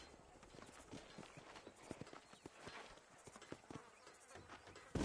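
Horse hooves clip-clopping in the video game Red Dead Redemption, a faint, steady, uneven patter of hoofbeats over a low ambient bed, with faint voices underneath.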